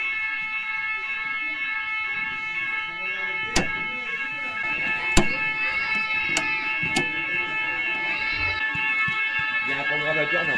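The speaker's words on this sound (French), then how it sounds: "on a l'alarme qui s'est déclenchée, il y a eu une coupure de courant" An alarm sounding after a power cut at a baptism gathering: a sustained multi-tone electronic wail held throughout, with several sharp clicks or knocks and people talking underneath.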